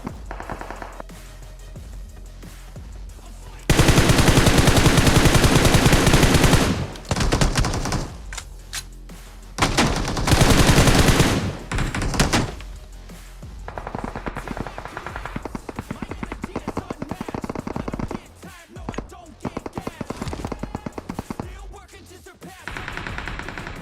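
Gunfire in PUBG Mobile played on an emulator, with long, very loud bursts of automatic fire separated by quieter stretches of scattered single shots and game noise.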